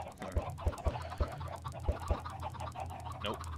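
Chickens clucking in a video game, a series of short, fairly faint clucks in an irregular rhythm over a soft background.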